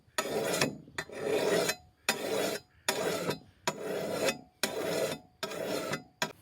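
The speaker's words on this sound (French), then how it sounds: "vous pouvez travailler directement à la pierre à faux" A scythe whetstone is drawn along a blade to sharpen it, making eight close, rhythmic rasping strokes, each about half a second long, with short pauses between them and no talking.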